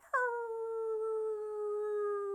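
A person imitates a wolf howl with one long, sustained, wavering note. The voice is close and clear and is heard alone.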